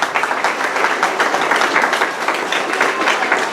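A church congregation claps for the Lord at an evening service, sustained loud applause from a crowd with a faint voice underneath.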